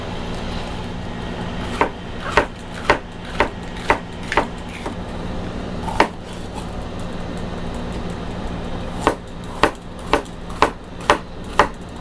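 A knife cuts through a cubanelle pepper on a cutting board to remove the seed pod, producing a string of about a dozen crisp, close taps in two bursts over a steady low kitchen hum.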